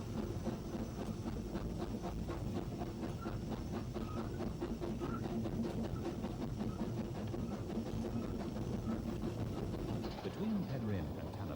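Ffestiniog Railway steam train running through forest on its climb between Penrhyn and Tan-y-Bwlch, a steady continuous rumble and rhythmic clatter of wheels on track throughout, with a narrator talking over it.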